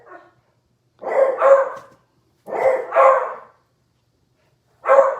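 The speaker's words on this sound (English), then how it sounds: "I can't even hear myself when they bark like this." Several dogs at a house bark at passersby on a walking path behind it, three loud close bursts of overlapping barks separated by short silences.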